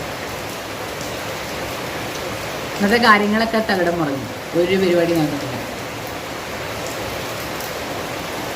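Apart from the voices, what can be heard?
heavy rain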